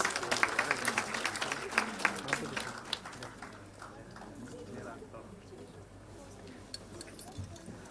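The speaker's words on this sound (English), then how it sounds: "I want all our children to give a big round of applause to our parents and school teachers." Children in a school gathering applaud their parents and teachers, a burst of scattered clapping that thins out after a few seconds amid background room noise and some talk.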